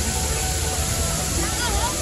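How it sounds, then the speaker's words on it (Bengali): Water falling from a shower installation at Eco Park in Kolkata, a continuous splashing rush that holds steady under nearby crowd chatter. "আমরা এখন আছি শাওয়ারের মধ্যে, এখানে সব জায়গায় জল ঝরছে,"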